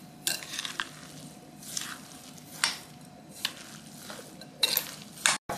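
Sago pandan mixture with sugar being stirred in a container: several distinct scraping, clinking strokes of a utensil against the bowl, spaced irregularly over a soft background hiss.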